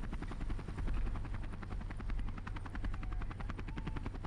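A military helicopter in the Call to Arms war game, its rotor beating in a fast, steady chop with a loud engine drone throughout, close and continuous without pause.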